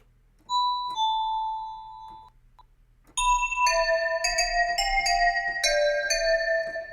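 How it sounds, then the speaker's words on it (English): A Beethoven-ish bell synth preset in the Harmor synthesizer, first a sustained bell chord, a brief pause, then a bright melodic run of ringing chime notes with long shimmering decays, clear and close with no voices. "Kind of a Beethoven-ish type bell."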